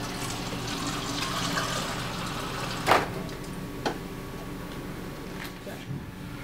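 Water streams steadily from a refrigerator dispenser, a constant hiss with a couple of sharp clicks partway through.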